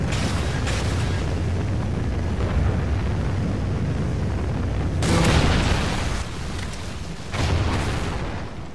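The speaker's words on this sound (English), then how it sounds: "Trinity rocket inbound." A Trinity rocket strike in Call of Duty: Ghosts sets off heavy booming blasts over a loud rumbling battle bed, with two sharp fresh impacts landing a couple of seconds apart.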